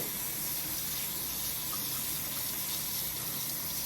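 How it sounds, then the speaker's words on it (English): Water running steadily from a tap into a sink during handwashing, a continuous broadband gush with no breaks. "with the water still running"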